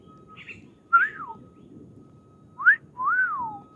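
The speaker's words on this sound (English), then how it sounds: "Oh, check it out. There's a bird." A bird at a playground gives two pairs of clear whistled calls, each a short note followed by a longer sweeping phrase, fairly close over quiet background hiss.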